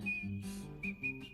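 Loud hands-free whistling by a person wearing a mouth guard, a piercing sustained pitch broken into a few short bursts, close and alone.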